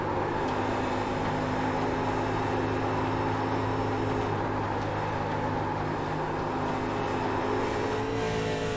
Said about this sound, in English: you can hear it just go right up the revs